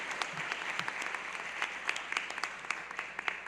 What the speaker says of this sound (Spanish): les pido que les demos un fuerte aplauso